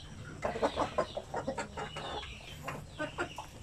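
Chickens cluck in short, uneven bursts nearby, several birds murmuring and clucking over a soft background hum.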